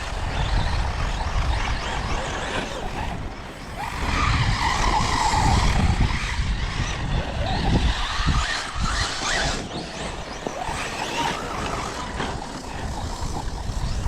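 A Team Associated SC8.2 6S RC car drives hard on loose ground, its electric motor whining as the tires skid and slide, a continuous close rush of motor and scrabbling dirt rising and easing over several passes.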